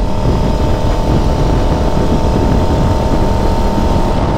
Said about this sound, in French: C'est la moto avec le son le plus plaisant que j'ai conduit de ma vie